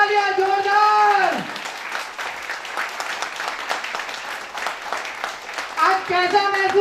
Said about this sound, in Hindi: जोरदार तालियां, जोरदार तालियां, जोरदार।